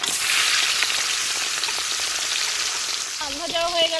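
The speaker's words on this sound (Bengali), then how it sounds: "তো আমার কিন্তু তেল গরম হয়ে গেছে, এবার মাছগুলো একটা করে একটু ভেজে নিতে যাই" Bhetki fish fry in hot oil at an outdoor village winter picnic, a loud, dense, crackling sizzle that holds steady before a voice briefly cuts in over it near the end.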